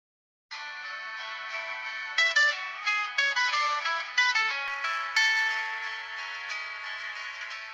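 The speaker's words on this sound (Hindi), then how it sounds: "इस वक्त किसका फोन है?" Mobile phone ringing with a melodic electronic ringtone, a bright repeating tune of clear tones that starts abruptly and plays on steadily without talk.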